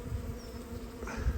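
Honey bees from a decade-old colony, just shaken off their comb, fill the air with a soft, continuous buzzing drone, quiet and close, with no talk.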